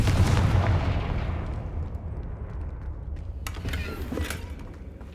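Fire spell explosions in the video game Hogwarts Legacy: a loud booming blast at the start that decays into a rumbling tail, then a sharper crackling burst near the end, with no talking.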